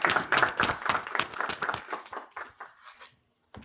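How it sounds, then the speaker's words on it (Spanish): Applause from an audience at a Puerto Rico talk on film and race, greeting a guest speaker: a short burst of clapping that thins out and fades to near silence, with a faint voice mixed in early. "para quien les pido un aplauso"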